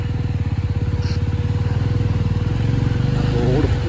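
A motorcycle engine thuds in a fast, even rhythm on a mountain road toward Sach Pass, loud and close throughout, with a slight rise in revs near the end.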